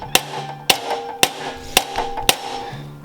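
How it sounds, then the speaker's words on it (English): A 7/32 extractor hammered onto a stripped, soft-metal 1/4 inch bolt during a downpipe install on a Mini F56: five sharp metallic strikes at a steady, unhurried rhythm, close and clear with brief ringing after each. "So we're hammering the 7/32 onto the 1/4 inch because it's such a soft metal."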